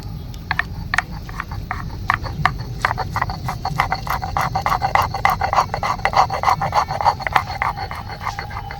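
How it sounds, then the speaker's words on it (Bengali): Fresh ginger ground on a stone slab for kasundi chicken and pakoras at an outdoor riverside picnic, giving a steady series of close, rhythmic scraping rasps that continue without pause. "এবার আমি কাসুন্দি চিকেন আর পকোড়ার জন্য আদাটাকে বেটে নেব"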